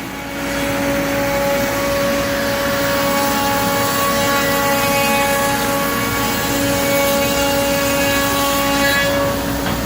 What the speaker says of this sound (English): So I'm flattening the first pair of French Mappa Burl Slabs